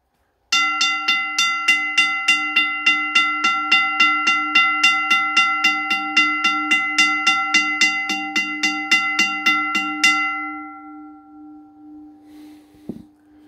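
A rare WRRS mechanical railroad bell strikes in a fast, even series of about thirty bright metallic dings, then stops and lets the tone ring out and fade, ending with a single sharp clunk.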